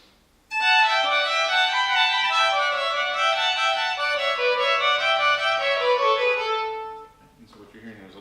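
Two violins play a Tartini passage with their parts squeezed close together, sustained bowed notes ringing and blending for about six seconds before fading out.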